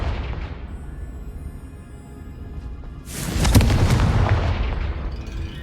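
A Confringo explosion spell goes off in Hogwarts Legacy, a sharp booming burst about halfway through that follows a low rumbling lead-in and fades out with a rolling tail.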